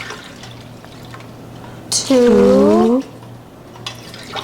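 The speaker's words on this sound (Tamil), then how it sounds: "நம்ம வந்து இப்போ தண்ணி ஊற்றிக்கலாம்" Water pours into a cooking pot for a Thalappakatti-style veg dum, a loud, roughly one-second gush with a rising filling resonance, while a voice counts aloud around it.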